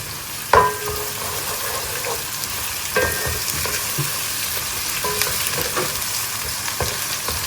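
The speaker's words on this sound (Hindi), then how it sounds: "ये जी मैंने प्याज भी देखें ब्राउन हो रहा है और मैंने साथ ही अदरक लहसुन भी शामिल कर दिया है।" Onion, ginger and garlic fry in a pan with a loud, even sizzle, marked by a few sharp clinks of utensil against metal and occasional stirring scrapes.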